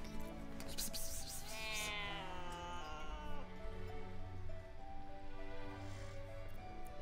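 A cat meows repeatedly in long, drawn-out, wavering cries, fairly close and moderately loud, with the calls overlapping and sliding in pitch over several seconds.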